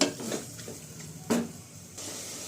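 Mutton keema frying in a pan, a soft steady sizzle with a few clinks and scrapes of a spoon stirring against the metal, close and fairly quiet, no voices.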